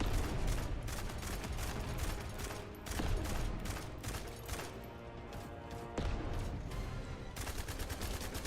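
Dense, continuous gunfire from The First Descendant video game, rapid overlapping shots and bursts throughout with a few heavier cracks, loud and sustained with no pauses.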